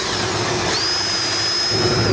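An HLS bolt is power-driven straight through a board into a wall with no pre-drilled hole. A steady, loud drill whine runs throughout, with the pitch stepping up partway.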